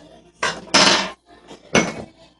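Sugar is mixed into kimchi paste in three quick, close scraping and clattering strokes of a spoon against a bowl, with short gaps between them.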